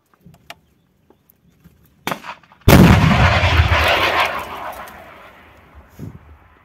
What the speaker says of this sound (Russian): Разрешение на запуск! Внимание, выстрел!